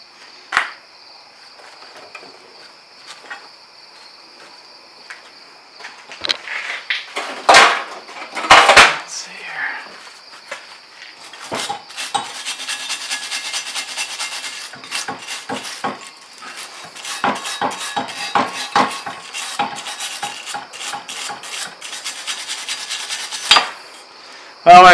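Arc welding on a post hole digger while paint burns off, a crackling, sizzling buzz in irregular bursts, faint at first, then louder runs of sputtering crackle with short pauses between welds.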